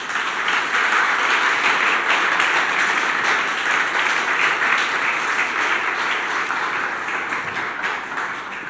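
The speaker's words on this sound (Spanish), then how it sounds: "¿Por qué no le das tu mejor aplauso al Señor?" A church congregation claps for the Lord during a service, a loud, dense and sustained wash of applause that holds steady throughout.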